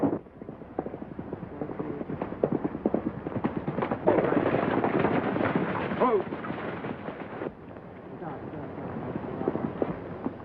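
Horses gallop in a western film, with a dense patter of hoofbeats under shouting voices and other action noise, fairly loud and continuous throughout.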